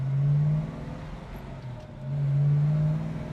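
A 1968 Chevrolet Chevelle SS engine revs up twice as the car drives, producing two loud rising surges with a quieter rumbling lull between them and no voices.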